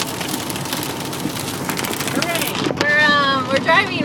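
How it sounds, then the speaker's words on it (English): Hail and rain drum on a car driving through stormy weather near Oklahoma on Route 66, a dense steady patter over road noise that swells louder toward the end, with people talking inside the car. "oh god, there's the hail. There's some hail."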